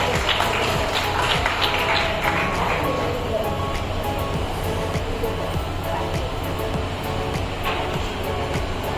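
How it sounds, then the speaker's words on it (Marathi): Sustained applause from an audience at a community haldi-kunku gathering, a dense, steady wash of many hands clapping at close range for the full stretch, with murmuring voices mixed underneath. "टाळ्या वाजवा."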